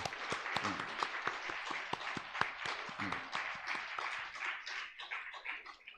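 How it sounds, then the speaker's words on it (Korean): A church congregation claps in welcome for newly registered members at a Sunday service, with a dense spread of hand claps and several sharp individual claps standing out, fading slightly toward the end. "우리 축복의 박수를 한번 보내드리도록 하겠습니다"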